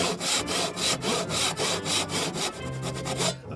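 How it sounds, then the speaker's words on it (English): A handsaw cuts wood for a mortise and tenon joint in steady, rhythmic back-and-forth strokes, close and clear, with no talk. "Sawing nice and square"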